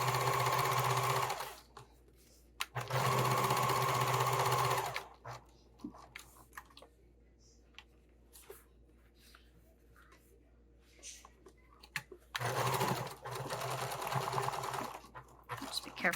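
A sewing machine stitches the seams of a Slimline Sling bag, zipper ends included, running in three loud bursts of steady whirring with quiet pauses between them.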